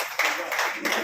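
A short burst of audience clapping at a political party meeting, a dense patter of many hands, fairly loud and close, lasting about a second.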